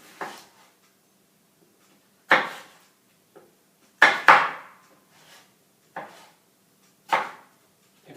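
A knife chopping crosswise through stacked cucumber slices on a cutting board, six or seven sharp, close woody thunks spaced unevenly, two coming in quick succession, with near silence between cuts.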